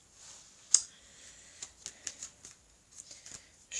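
Tarot cards shuffled and laid down on a table, giving a string of soft, close, papery clicks and slaps in an irregular rhythm, one sharper snap near the start, with no talking.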